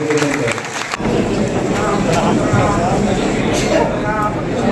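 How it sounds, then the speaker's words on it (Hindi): Crowd applause welcoming a guest at a BJP professional meet, a loud, full burst of clapping that swells after a brief opening and carries on steadily, with a voice over the crowd. "एक जोरदार तालियों के गड़गड़ाहट के बीच स्वागत करें।"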